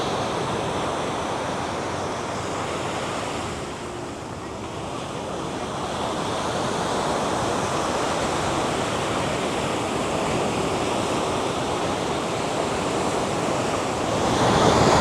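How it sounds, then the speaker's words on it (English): Surf and wind on North Kata Beach in Phuket, a steady broadband roar of breaking waves and gusting wind across the microphone, loud and continuous with a slight swell near the end. "And this is on North Kata Beach."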